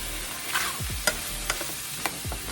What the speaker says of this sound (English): So this sausage has been cooking for about, 8 minutes on medium heat.